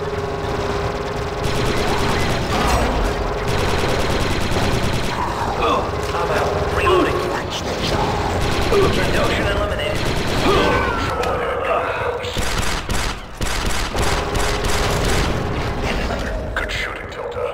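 Blaster fire from clone commandos and enemies rattles through a firefight in Star Wars Republic Commando, with repeated bursts, booms and mechanical clatter filling the scene while squad voices talk over the combat.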